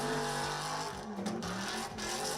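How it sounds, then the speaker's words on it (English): A Nissan S13 Silvia drift car with a V8 engine roars loudly at a drift series qualifying round, its engine note rising and falling steadily as it slides through the track. "the fastest car on the track so far, Emmanuel Amandia with an S13, Sylvia, also a V8 engine"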